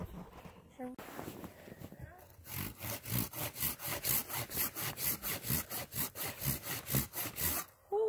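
A hand saw cuts notches into a log for a bushcraft sawhorse, with steady back-and-forth strokes building into a loud, even rhythm of about two strokes per second after a quieter start.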